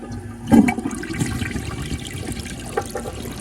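A restored 1958 Standard cadet toilet flushes nearby with a sudden rush of water followed by steady swirling and gurgling as the bowl rinses.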